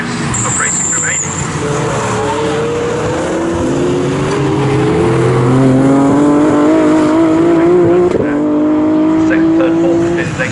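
GT race cars, including a Lotus Evora GTE and a BMW, roar past on a racing circuit with steady loud engine tones rising in pitch over about ten seconds, while a commentator talks over them.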